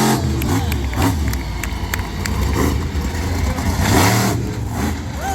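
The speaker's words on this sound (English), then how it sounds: "Nice sky wheelie and a nice crush to start it off for Brandon Darrow" A monster truck's engine roars and revs loudly at a fair's motorsports event during a sky wheelie and car crush, with crowd noise and clanking impacts mixed under the continuous engine drone.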